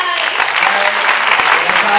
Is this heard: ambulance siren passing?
no